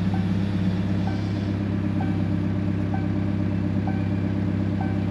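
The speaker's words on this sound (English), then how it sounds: "it's gonna beep at us until we get our new one on" Repeated warning beeps from a digging machine sounded while changing from a 12-inch to a 36-inch digging bucket, evenly spaced about once a second over a steady idling engine drone.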